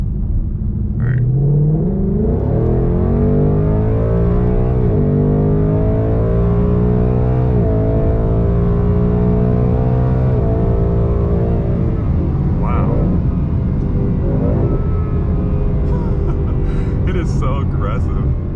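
A tuned 2020 Mustang GT V8 on 91-octane tune accelerates hard from low speed, engine rumble rising in pitch through several automatic gear shifts, loud and close, with people talking over it.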